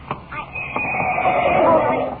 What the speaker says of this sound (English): Dusty, the horse is falling, and I'm falling with him